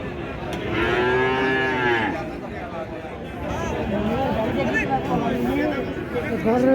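Cattle lowing at a busy livestock market in Pabna, with long drawn-out moos rising over a steady murmur of nearby voices and crowd chatter.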